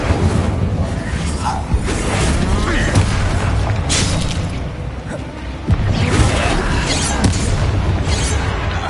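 An Incendio fire spell bursting in Hogwarts Legacy, a loud booming whoosh among the game's dense effects and music, with a second strong hit a few seconds later.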